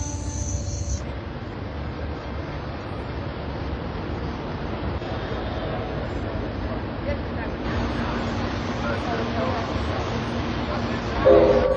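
Amtrak train 799 on the Los Angeles to San Luis Obispo coastal run rolls past with a steady, continuous rumble, and a brief horn-like burst comes near the end while a narrator talks over it.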